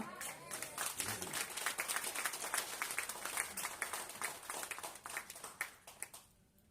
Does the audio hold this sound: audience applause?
yes